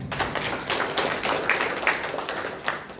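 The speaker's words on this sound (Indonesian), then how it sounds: "Yang setuju tepuk tangan." Congregation clapping during a Sunday worship service in church, uneven scattered hand claps from many people, moderately close, with no speech over them.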